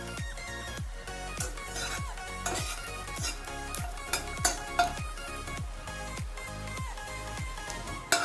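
Garlic roasts in a pan, with a steady run of rhythmic scraping and clinking strokes, roughly two per second, over a low background sizzle.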